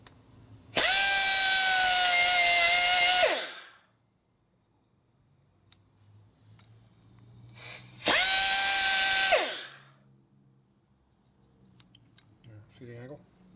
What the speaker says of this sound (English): you try to get a full grind across the face.